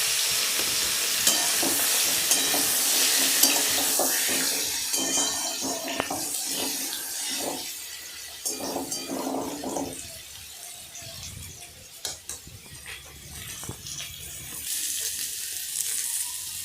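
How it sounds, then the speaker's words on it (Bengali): Boiled sweet potato pieces frying in hot mustard oil, giving a steady close sizzle with stirring clatter and bubbling spatter that flares, eases midway, then rises again toward the end. "বন্ধুরা, তেল গরম হয়ে গেছে। এবার আমি এই সারকন্দগুলোকে তেলের উপরে দিলাম।"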